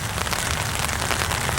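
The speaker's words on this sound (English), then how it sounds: "And it started raining again." Steady rain falls and patters across a tent or tarp surface outdoors, a dense, even hiss of drops that stays loud and close the whole time without pause.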